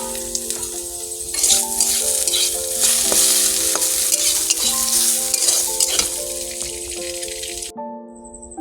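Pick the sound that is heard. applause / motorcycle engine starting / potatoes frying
potatoes frying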